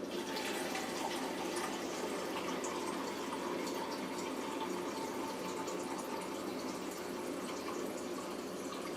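Filtered cold water pours steadily from a tap into a measuring cup in a continuous hissing splash, with no talking.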